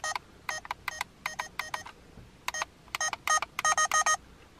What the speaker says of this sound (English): pressing the up volume, it gives you a beep so you know how loud it is